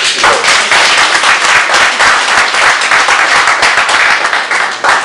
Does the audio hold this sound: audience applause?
yes